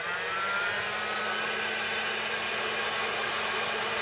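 A heat gun on its second speed and second heat setting blows a steady, even airy whoosh with a faint motor hum, constant and unbroken from start to finish.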